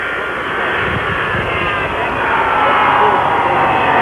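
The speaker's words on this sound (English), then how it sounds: "It's another jet approaching now." A jet airliner approaching Dallas Love Field in 1963, a broad roaring whine growing slightly louder over a few seconds, heard at a distance beneath a crowd's noise and voices.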